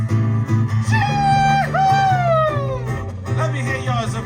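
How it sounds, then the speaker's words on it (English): A single Samoan celebration shout, the va'umu, rises as a loud sustained wavering yell with a sharp pitch break in the middle and slides down at the end, over a low steady background hum. "they're not afraid to let it out with a loud shout of celebration"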